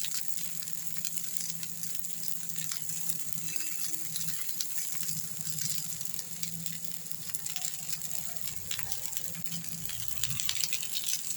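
A potato cutlet shallow-frying in a little oil in a pan, a gentle, low sizzle with soft spattering pops that flicker irregularly, fairly quiet and close.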